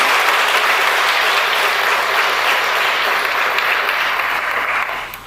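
An audience at a 50th anniversary celebration of Emergency Medical Services in Putnam County claps in a loud, even roar of applause that holds steady before fading at the very end.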